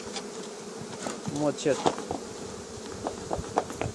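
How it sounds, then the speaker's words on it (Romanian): Honeybees buzz around a hive on an apple tree, a close, continuous droning with individual bees flying past, while someone speaks briefly over it. "Uitați-vă la el cât albina, cum dă albina pe față."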